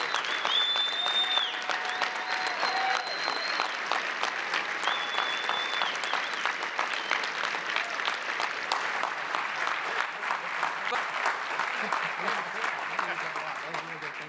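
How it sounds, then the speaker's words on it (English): Long, steady applause from a conference crowd at a Texas policy summit, many hands clapping at an even level, with a few voices and some whistling mixed in before gradually thinning out. "how about another round of applause for our great governor?"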